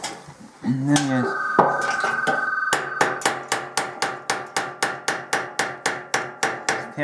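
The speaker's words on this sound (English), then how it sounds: "tap the cap down a little bit till it stops" A tuba valve cap is tapped down with a hammer in a brass repair workshop, giving a long even run of sharp metallic taps after some scraping and a brief rising squeak.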